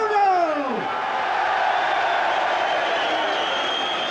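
A boxing arena crowd applauds and cheers for boxer Frank Bruno after his 1987 fight against Joe Bugner, a loud, steady roar that opens with a sharp descending whistle.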